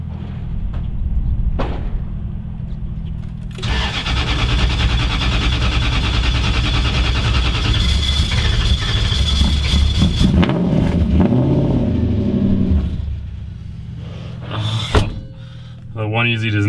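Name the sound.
V8 Mazda drift truck engine running in the cold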